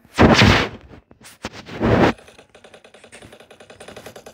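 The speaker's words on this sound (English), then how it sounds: "you want to shoot my shield?" Gunfire aimed at a shield in the Roblox Jailbreak game, two loud dense bursts of rapid shots separated by a short gap, followed by a quieter run of fast clicking impacts.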